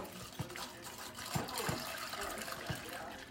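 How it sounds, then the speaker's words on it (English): Tea is poured into a teacup in a steady, close trickle with a few small splashes and clinks, and soft talk is heard under the liquid. "pouring teacup for my company"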